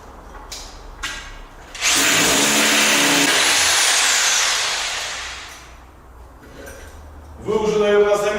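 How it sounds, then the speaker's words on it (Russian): A power drill bores into a concrete floor slab for anchors in a Stalin-era apartment, a loud grinding whine lasting a few seconds before tapering off, with people talking around it. "и начинаем забуривать"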